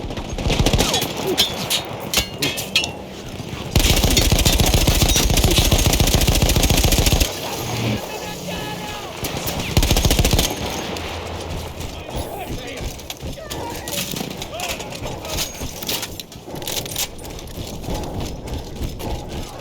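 Gunfire from a mounted machine gun in the World War I shooter Battlefield 1, on an Italian-front battle map. Dense bursts sound close and loud, the heaviest volley running for several seconds, against constant battle noise and shouting voices.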